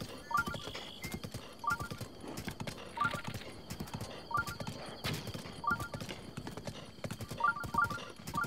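Horse hooves clip-clop in Breath of the Wild with a regular galloping rhythm, in evenly spaced bursts of quick steps, moderately quiet, with a whinny-like cue.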